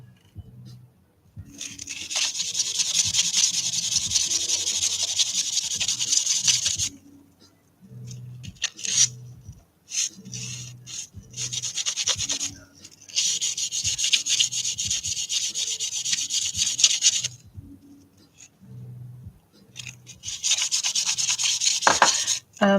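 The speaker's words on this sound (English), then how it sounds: "So I'm just sanding them down, like the tops of them" Sandpaper rubs over the raised scales of a leopard gecko sculpture to flatten their tops, a steady close scratchy rasping in long sustained bursts separated by short pauses and quick strokes.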